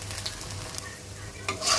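Onion frying in a pan with ginger garlic paste, a steady sizzle broken by a few scraping stirs and a sharper burst near the end.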